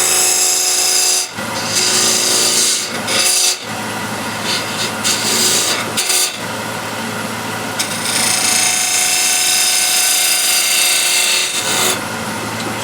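A freshly burred square end scraper cuts a straight flange into wood spinning on a lathe. The rasping scrape is loud and steady, broken by a few brief pauses.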